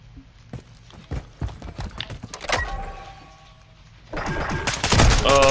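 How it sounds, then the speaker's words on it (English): Light machine gun fire in Call of Duty: Modern Warfare 3 Search and Destroy, scattered sharp shots and footsteps at first, then a loud sustained burst of rapid automatic fire close by near the end. "Oh, fucking LMG."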